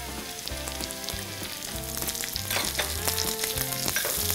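Chopped garlic and onions fry in oil, a close crackling sizzle that grows louder toward the end, beneath rhythmic background music, no speech.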